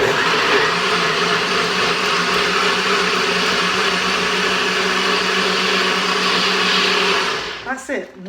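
A blender whirs loudly and steadily while mixing an elderberry Panther smoothie, then winds down and stops just before the end.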